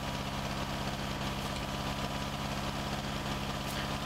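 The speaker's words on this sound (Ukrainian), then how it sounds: "Двигун зразу. Бачу, грітись почав." A harvester engine idles in Farming Simulator 19, a steady, loud, low rumble with a constant throbbing vibration that runs alone throughout.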